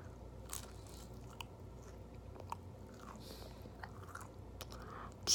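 Chicken nuggets are bitten and chewed close up, with soft repeated crunches and wet chewing clicks over a low steady hum and a louder bump at the end.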